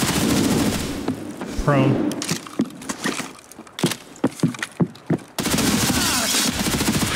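Rapid gunfire in Escape From Tarkov on the Shoreline map rings out as a close burst of sharp shots, then scattered single cracks, with someone speaking briefly between them.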